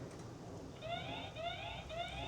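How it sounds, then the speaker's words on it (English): An outdoor Reblumm solar wireless security camera sounds its siren alarm: a faint, repeating rising electronic wail in three short sweeps, each climbing in pitch, over a soft hiss of background noise. "If you have a siren, it'll give a siren sound as well."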